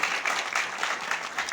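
An audience of women at a Women's Day gathering claps, a brief, steady patter of applause from a seated crowd, moderately loud and without talk.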